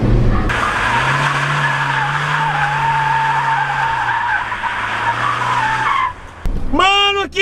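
A pickup truck drifts on a track with friends riding in the bed, its tires skidding in one loud, sustained squeal for about six seconds, followed by a brief rising screech at the end.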